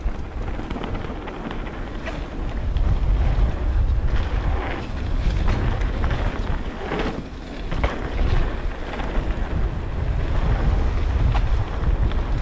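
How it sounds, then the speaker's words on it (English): Strong autumn wind buffets the microphone in loud, rumbling gusts that swell and ease continuously, with a sense of open water or waves in the background. "as you'll be able to hear, it is windy"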